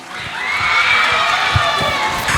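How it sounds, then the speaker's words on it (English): A school English speaking contest audience claps and cheers loudly, a dense roar of applause with shouting children's voices rising over it, close and sustained. "please take a huge round of applause for the next contestant"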